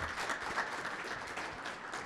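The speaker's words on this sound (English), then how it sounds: "please give an applause to Rafael again." Applause from an audience after a talk at a grassland production and utilization session: a brief, steady wash of many hands clapping, fairly soft and distant.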